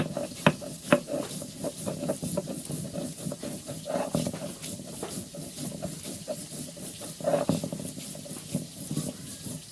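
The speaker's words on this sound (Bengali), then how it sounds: "এখানে মাছ ভাজি করা হইতেছে, একদম মোচমোচে করে মাছ ভাজি করবে।" Fish frying in hot oil until crispy, a continuous loud hiss and crackle close by, with scattered sharp pops and spatters throughout, and no voices over it.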